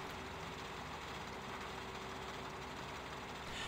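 A John Deere 4420 combine idling in a farming game, a steady low engine hum with faint vibration running evenly throughout, moderately quiet and without talk.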